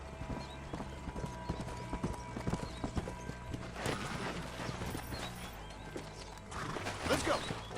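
Horse hooves galloping in Red Dead Redemption, a rapid rhythmic clip-clop close up, with a whinny and scattered crashes, growing louder toward the end.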